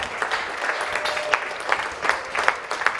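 Scattered clapping from a small crowd at a polo trophy ceremony, light and uneven, with a few sharper claps standing out over a soft background murmur.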